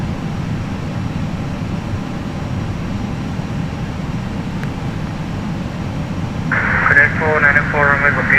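An Airbus A321 airliner's engines rumble steadily and loudly while taxiing in the Prepar3D v4 flight simulator. A low, continuous drone runs throughout, and a brief radio voice breaks in near the end.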